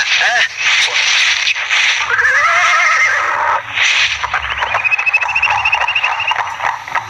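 A horse neighs and whinnies loudly, up close, with clip-clopping hooves and scraping effects, in an Indonesian radio drama, with a crackling broadcast quality throughout.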